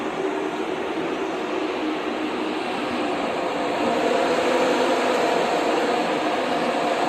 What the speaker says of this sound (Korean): 지금 소리 들리시죠? 에어컨 팬소음.